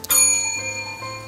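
A trained dog rings a small hanging bell to ask to go out: one bright metallic strike that rings on with a clear, slowly fading tone, close and alone.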